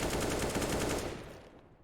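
Rapid AK rifle bursts from Counter-Strike: Global Offensive in a Welsh Masters 2022 match, a dense loud rattle of repeated shots that gradually fades toward the end.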